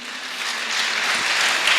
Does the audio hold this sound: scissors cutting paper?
no